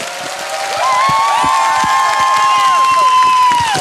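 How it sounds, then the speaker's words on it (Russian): A concert audience at a large anniversary show applauds and cheers, a loud, dense crowd roar with whistles and raised voices building and holding. "Ваши аплодисменты."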